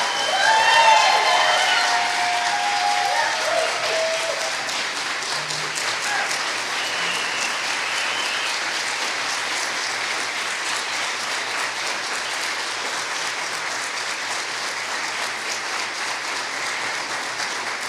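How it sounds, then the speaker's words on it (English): A standing audience gives sustained applause for students at a university cords of distinction ceremony, dense clapping that peaks early and continues evenly for the whole stretch. "Can you all stand up and we do just one more round of applause for all of them?"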